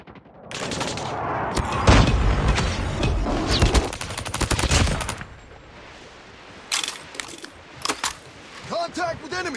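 In Call of Duty Mobile on the Raid map, a napalm strike and gunfire bring bursts of rapid automatic fire and crackling blasts, loud and dense early, then sparser shots with brief game voice callouts.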